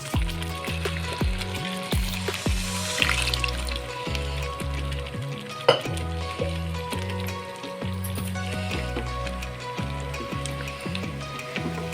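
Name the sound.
hot water poured into boiling spinach dal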